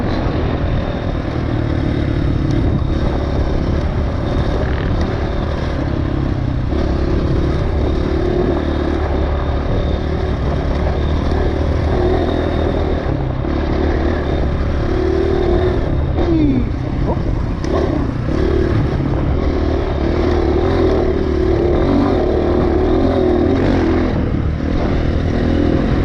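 An enduro dirt bike, Honda CRF or KTM 450/500, riding single track through dust and whoops, its engine droning loud and close throughout with rising and falling revs, buffeted by wind.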